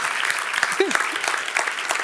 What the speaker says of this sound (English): Now you can clap.